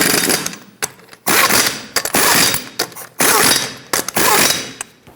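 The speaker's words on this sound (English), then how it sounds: "in a cross pattern, we're going to torque them to 83 foot-pounds." Impact wrench or torque wrench working on the lug nuts of a 2012-2018 Nissan Altima, torqued to 83 foot-pounds in a cross pattern: loud bursts of rattling mechanical hammering, four or five in a row, separated by short pauses.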